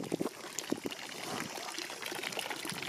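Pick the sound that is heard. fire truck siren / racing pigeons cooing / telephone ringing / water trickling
water trickling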